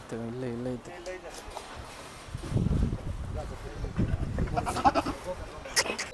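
Goats and sheep bleat at a livestock market, with a clear wavering bleat at the start, then shuffling, hoof clatter and crowd murmur. People talk throughout over the animals.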